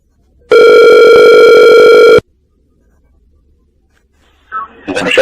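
A single steady electronic ring tone on a phone line while a call is being transferred, lasting under two seconds, followed by silence and then a voice starting to speak.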